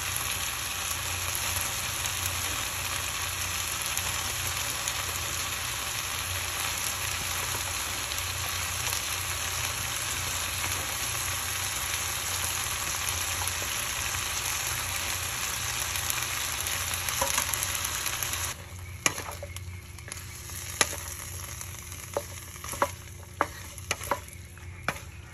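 Adobong sitaw being made as string beans go into a hot pan, setting off a loud, steady, continuous sizzle of frying that then thins out, broken by a few sharp clicks and scrapes.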